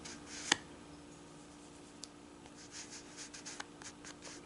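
A flower drawing is colored in on paper, with faint, soft scratchy strokes of the coloring tool and a couple of light taps in a quiet room.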